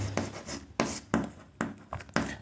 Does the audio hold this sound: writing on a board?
yes